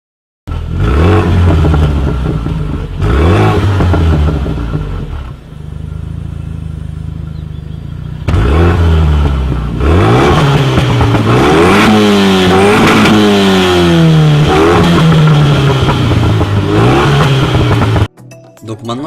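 Car engine accelerating through the gears in loud, close sweeps, each rising pull ending in a drop at the shift, with a quieter steady idle stretch in the middle.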